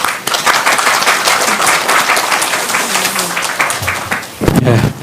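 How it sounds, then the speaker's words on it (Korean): Warm applause from a church congregation at an ordination thanksgiving service greets a pastor coming up to preach, dense steady clapping throughout with a voice speaking over it near the end. "우리 목사님 나오실 때 우리 따뜻한 박수로 우리 맞아주시면 고맙겠습니다"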